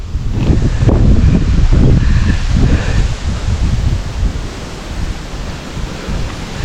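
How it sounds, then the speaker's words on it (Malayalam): Strong wind gusts across an open hill viewpoint in Kerala, a loud, roaring, buffeting rush that swells early and stays steady with broad noisy blasts, no voices heard. "എന്നെങ്ങടേയും കൂടി പറത്തിക്കൊണ്ട് പോകുന്ന രീതിയിലുള്ള കാറ്റാണ് കേട്ടോ"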